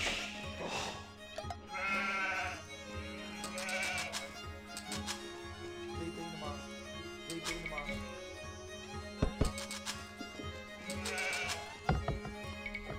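Sheep in the Age of Empires 2 video game bleating repeatedly, several wavering calls spread across the stretch amid game sound effects and thuds, with someone talking in between.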